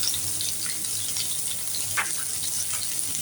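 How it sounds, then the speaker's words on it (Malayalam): Curry leaves, dried red chili and small onions sizzle and crackle in hot oil in a pan: a continuous bright hiss with scattered pops and a brief louder spatter midway, with no talking. "ഒരു 2 കരിവേപ്പില ഇടാം. പിന്നെ വറ്റൽമുളക് ഇടാം. ചെറിയ സബോളയും കൂടെ ഇടാം."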